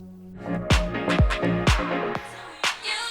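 Electronic music with punchy kick drums plays while a Reloop RMX95 DJ mixer filter gradually sweeps its tone, thinning and brightening the sound over a few seconds.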